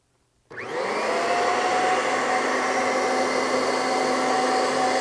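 A Kirby vacuum cleaner fitted with its hose and a brand new bag switches on abruptly after a brief silence, then holds a loud, steady, high-pitched motor roar and airflow whine close by.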